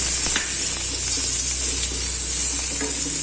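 Ginger sautéing in a pan, a steady broadband sizzle with occasional stirring scrapes, close and continuous without any voices.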